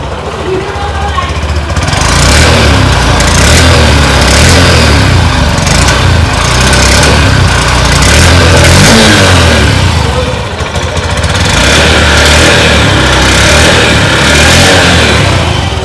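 A 2023 Honda Livo 110 disc-brake motorcycle with OBD-2 engine idles and revs, a loud close single-cylinder putter rising into repeated throttle blips and settling back between them, with no other sound over it.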